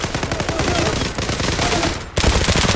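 Loud, close gunfire in a shooting video game, fast continuous bursts like an automatic weapon, a brief lull just after two seconds and then another heavy burst.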